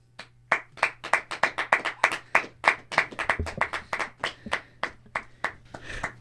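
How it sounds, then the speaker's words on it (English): A small group claps in a loose, uneven rhythm on a campus podcast set, with sharp, close hand claps overlapping steadily for several seconds before gradually thinning out. "Just keep clapping, bro."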